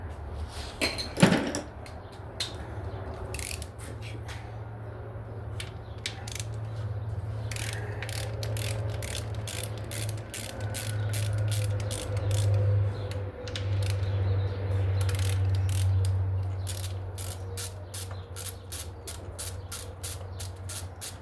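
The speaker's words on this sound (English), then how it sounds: "I'm going to start taking all these bolts off around here" A hand ratchet loosening engine bolts on a 2006 Chrysler 300 with the 3.5 engine during timing belt and water pump work, fast repeated clicking runs up close, pausing between bolts over a low hum.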